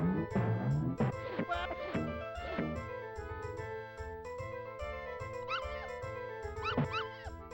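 Cartoonish puppies yip and bark in Earthworm Jim 2, a busy run of short, pitched yelps and whimpers over game music, with no talking.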